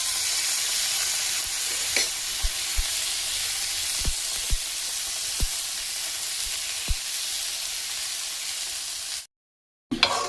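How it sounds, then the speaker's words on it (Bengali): Winter vegetables and green peas fry in a pan with a steady, loud sizzle, broken by a few soft clicks of stirring, before the sound cuts off briefly near the end. "মোটামুটি সবজির যে কাঁচা গন্ধ সেটা যাতে চলে যায় সেই রকম মতো করে ভেজে নিতে হবে দিয়ে দিলাম মটরশুঁটিগুলোকে"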